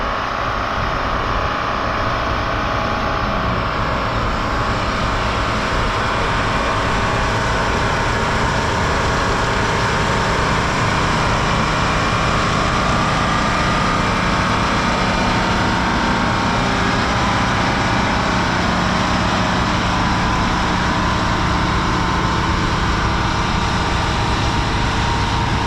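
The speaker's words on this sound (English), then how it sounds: "That's a tractor I would own. 4650, 2-wheel drive, plenty of power." A two-wheel-drive 4650 tractor engine runs steadily at a horsepower show demonstration, giving a continuous broadband rumble with no breaks, moderately loud from nearby.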